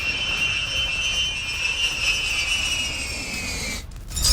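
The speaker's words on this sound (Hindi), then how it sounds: "चेक रिपब्लिक में B-52H बॉम्बर को लेकर यह खबर, जहां यूरोप में अमेरिकी बॉम्बर दिखा है" Engines of a B-52H bomber over the Czech Republic, a loud sustained jet roar with a high whine that holds steady, then cuts away briefly near the end before resuming.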